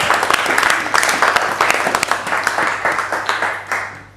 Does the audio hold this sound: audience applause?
yes